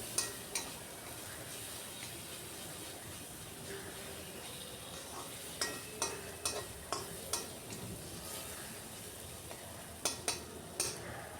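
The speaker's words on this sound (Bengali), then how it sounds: "মশলাটা প্রায় কষানো হয়ে গেছে।" A spice paste frying in a pan with taro leaves, a steady sizzle broken by repeated sharp taps and scrapes of a stirring spoon, close and without talk.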